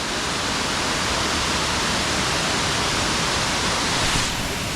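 Water cascades down a waterfall in the Brecon Beacons, Wales, giving a loud, constant hiss and rumble heard up close, steady throughout with no talking.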